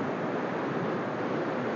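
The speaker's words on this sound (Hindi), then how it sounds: "यहाँ पे पानी इतना जो है ना शोर के साथ चल रहा है, इस साइड से आ रहा है" Loud, steady rushing of fast-flowing river water, a dense continuous roar with no pauses, close by and heard alone without any voices.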